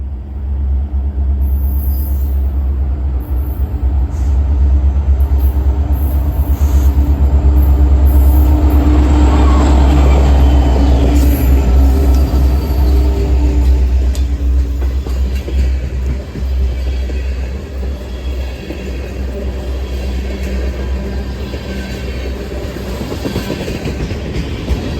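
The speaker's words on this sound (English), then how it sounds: "with an NS-SD70 ACE leading the way and a WRFX XBN SD70 MAC leading the way to Mason City" Freight train of ethanol tank cars led by NS SD70ACE and SD70MAC diesel locomotives rumbles past near La Crosse, a loud deep engine roar swelling and then easing into continuous wheel clatter.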